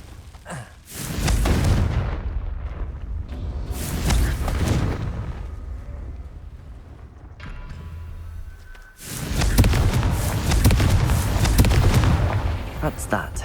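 Confringo blasting curse explosions in the Hogwarts Legacy video game, two loud broad booming bursts with rumbling tails separated by a quieter stretch, with a voice speaking briefly in between.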